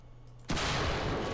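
A single loud tank cannon shot in a military combat video game, with a sharp blast that rolls into a sustained rumbling roar.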